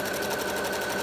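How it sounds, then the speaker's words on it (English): A sewing machine stitches a buttonhole on a cushion cover, a fast, even, close mechanical whir that runs unbroken for about a second. "the machine will create the buttonhole for us"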